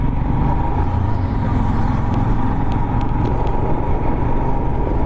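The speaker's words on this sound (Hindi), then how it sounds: "बहुत बहुत तेज ट्रैफिक आ रहा है पीछे" Heavy highway traffic rushing past from behind at night, a loud, steady roar with no distinct gaps between vehicles and no voices.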